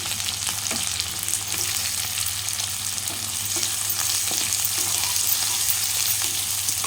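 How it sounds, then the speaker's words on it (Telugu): Onions and green chilies frying in oil with cumin and mustard seeds, a steady close sizzle with soft stirring scrapes throughout, no voices. "ఇప్పుడు మనం ఉల్లిగడ్డ వేసుకున్నాం పచ్చిమిర్చి"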